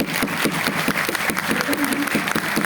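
An audience breaks into steady, dense clapping, a continuous wash of applause that holds at an even level throughout.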